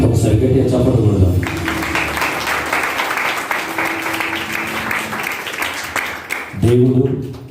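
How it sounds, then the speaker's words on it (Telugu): A church congregation claps loudly during a prayer service, rhythmic clapping running under singing and a voice, with talk at the start and end. "ఒకసారి గట్టిగా చప్పట్లు కొడదాం."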